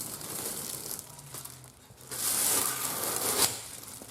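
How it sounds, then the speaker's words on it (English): Protective plastic wrapping crinkles and tears off a new front lower grille on a Chevy Bolt, in bursts of close crackling and rustling, loudest in the second half, with a low hum underneath and no talking. "guess we'll go ahead and do the final unwrapping here"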